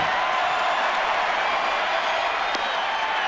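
Baseball stadium crowd at a Cardinals–Giants game roars in a steady, broad wash of cheering and noise, loud and sustained, with no distinct claps standing out.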